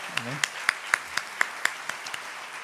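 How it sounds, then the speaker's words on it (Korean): A church congregation at a Sunday worship service claps together in a steady, evenly spaced rhythm, each clap crisp but fairly soft and distant in the sanctuary. "우리 하나님께 감사의 박수 드립시다."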